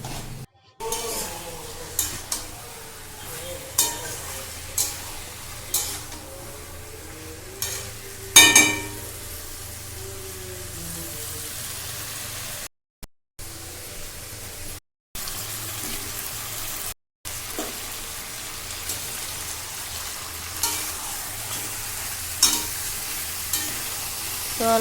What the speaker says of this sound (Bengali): এখানে দেখো মশলাটার সাথে আমি ভালো করে মাংসটা মিক্স করে নিয়েছি